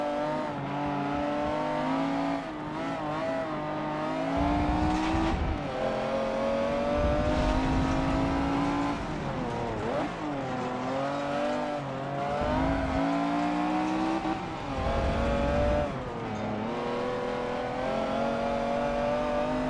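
A McLaren F1 V12 screams through its gears in Forza Motorsport 7, the engine note climbing and dropping with repeated upshifts and brief lifts, loud and continuous with no voices.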